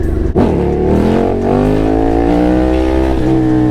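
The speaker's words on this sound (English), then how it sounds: "this is nothing but just a humongous ass dirt bike" A big dirt bike engine revs hard close by, a loud, continuous roar whose pitch climbs steadily as the throttle stays open, with no talking over it.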